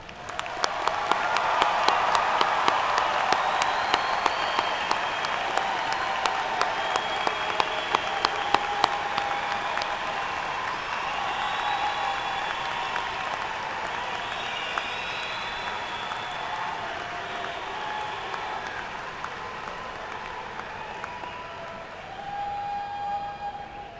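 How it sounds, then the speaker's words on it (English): Sustained audience applause at a spring graduate school graduation ceremony, a dense wash of clapping from a large crowd that swells early and carries steadily for the whole stretch with no talk over it. "Let us acknowledge the accomplishments of these distinguished graduates with one more round of hearty"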